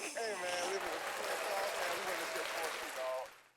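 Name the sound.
round of applause on podcast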